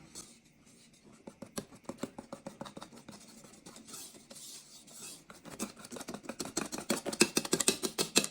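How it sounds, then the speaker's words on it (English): A whisk beats flour into crepe batter in a bowl, a fast run of rapid scraping clicks that grows louder and quicker toward the end, close and alone. "And just whisking it all in."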